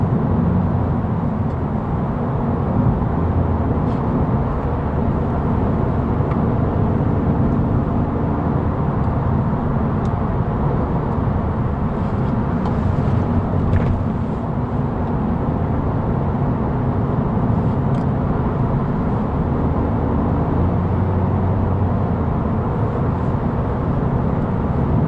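Steady interior road and tyre noise inside a Toyota Yaris Dynamic Hybrid while driving, a constant low rumble and hiss with no change in level and no voices.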